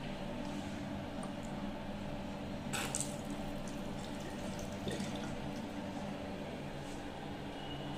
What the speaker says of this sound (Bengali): বেসিনের জলটাকে একটু আমরা দেখে নেবো কিরম পড়ছে পড়ছে।